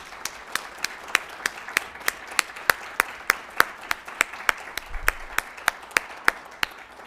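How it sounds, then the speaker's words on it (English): A lecture audience greets Professor Raja with steady applause, a clear even run of distinct claps, fairly sparse and moderately loud, with no talking over it. "please, an applause for Professor Raja"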